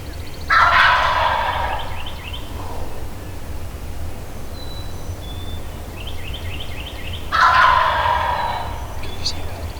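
A wild Virginia turkey gobbler in spring gobbles twice, loud, rattling bursts spaced several seconds apart, outdoors over a low background hush.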